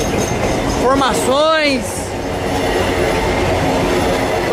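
A freight train rolls along an export rail corridor in Minas Gerais, its wheels squealing in rising and falling whines over a steady rumble of passing wagons, loud and close, with a brief voice.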